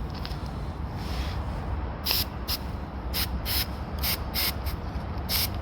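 Short hissing bursts of an aerosol spray can aimed at a MIG welder's wire feed, several quick squirts in an irregular rhythm over a steady low background rumble.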